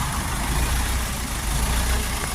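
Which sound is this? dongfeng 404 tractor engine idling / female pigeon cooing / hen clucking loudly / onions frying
dongfeng 404 tractor engine idling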